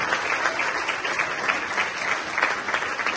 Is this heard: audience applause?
yes